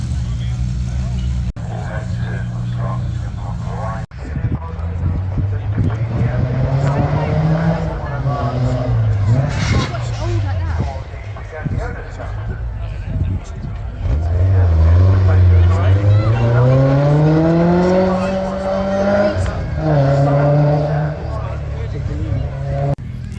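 A small Fiat Topolino drives quickly up the Prescott hill climb course, its engine note rising and falling through the gears from close by, with people chattering throughout.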